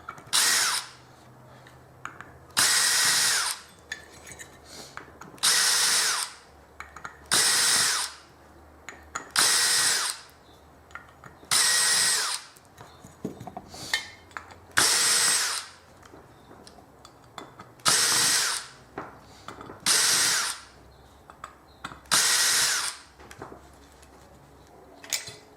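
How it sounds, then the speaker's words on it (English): Power drill backing screws out of the rear casings of discarded electronics, a dozen short whirring bursts separated by brief pauses, close and clear with faint clinks between, no talking. "let's get the screws out of the back of these"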